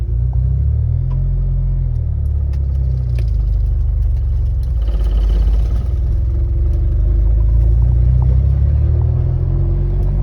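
A 1997 Jeep Wrangler rolls along in four-wheel drive high, its engine giving a steady, loud low rumble with light clattering throughout and no voices.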